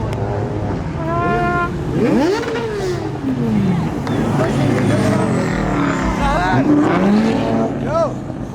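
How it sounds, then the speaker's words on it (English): Car burnout at a crowded Memorial Day street takeover, engine revving in rising and falling bursts under a loud cheering crowd, with people shouting and talking close by throughout. "they're doing a burnout"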